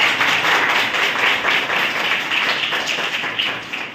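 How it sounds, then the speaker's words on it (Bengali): Applause from school students at a theatre workshop, a dense, even patter of many hands clapping together at close range, fading slightly at the end. "হাততালি হোক তার জন্য"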